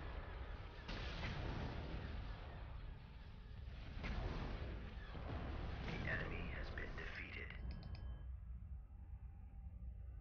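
Starship weapons fire and explosions from a space battle in the PC strategy game Star Wars: Empire at War (Thrawn's Revenge 2.3 mod), a dense rumbling barrage of blasts that dies away near the end, with game voice lines heard faintly over it.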